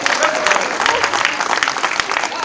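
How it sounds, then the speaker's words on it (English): Audience applause fills a university lecture hall during a speech, steady dense clapping from a crowd sustained throughout, loud and close with some voices mixed in. "Now for all 8 of y'all that clapped"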